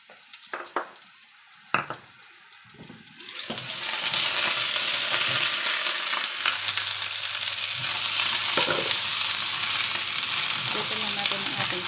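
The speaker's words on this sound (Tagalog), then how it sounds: "Luto na natin ang ating patatas hanggang sa mag-brown ng konti." Potatoes frying in a hot pan for beef curry: a few clatters and taps at first, then a loud, steady sizzle that swells in and holds close for the rest of the clip, with no talking.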